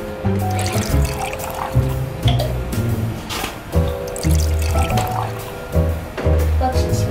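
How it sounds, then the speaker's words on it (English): Mixed paint colors poured together into a container in a children's color-mixing science activity, giving trickling, splashing liquid sounds under background music and voices. "Mix them all, just pour everything in there"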